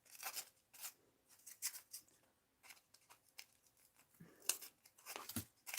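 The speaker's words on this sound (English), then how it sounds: "I guess I'll just cut it this way" Scissors snip through fabric for a rag doll's hat in a series of short, close cuts with brief pauses between them, crisp and fairly quiet in a still room.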